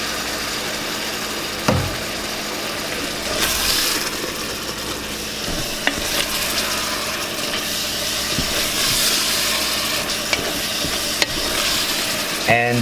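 Dumpling filling cooking in a pan with soy sauce, a continuous soft sizzle and hiss with occasional stirring knocks.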